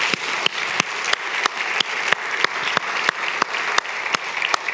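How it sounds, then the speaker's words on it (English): A church audience gives a round of applause for campus volunteers, steady loud clapping from many hands with sharp individual claps cutting through. "Let's give those guys a round of applause"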